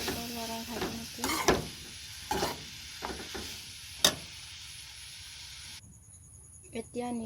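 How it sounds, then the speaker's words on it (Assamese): Vegetables and jackfruit seeds stir-fried in a pan, with soft sizzling and repeated scraping strokes of a spatula at an irregular rhythm, fairly faint and close. "লৰাই ভাজিম এতিয়া।"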